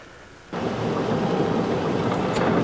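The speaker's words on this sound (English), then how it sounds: "this morning we have a little bit of rain coming down here" Rain falling on a morning in South Africa, a steady dense hiss that starts abruptly after a quiet half second and continues evenly and close.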